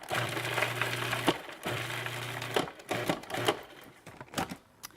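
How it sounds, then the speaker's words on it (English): A food processor chops garlic in short bursts of loud whirring and rattling blade noise, stopping and starting twice before fading into a few scattered clatters. "I'm going to grind the garlic just a little bit. Just chop it up in the processor."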